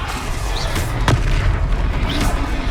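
Booming spell blast from the Confringo curse in the Hogwarts Legacy game, a loud thudding burst rising out of a dense, constant wash of game sound and music.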